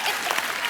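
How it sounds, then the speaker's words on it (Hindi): Brief burst of studio audience applause on a Hindi comedy talk show, a dense, loud, even clatter of many hands throughout. "ठोको ताली ठोको."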